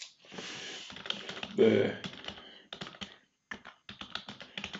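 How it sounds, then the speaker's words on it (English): Quick bursts of keystrokes clatter on a computer keyboard while someone enters settings in management software, with a voice talking over the taps. "you can come in here and simply type in"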